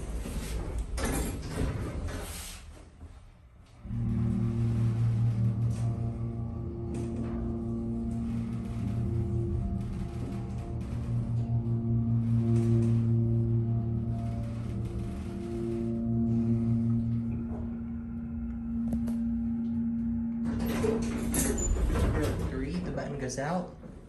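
A US hydraulic elevator with circle buttons hums steadily while running, with sustained low tonal drones. A door slides and thumps at the start and again near the end.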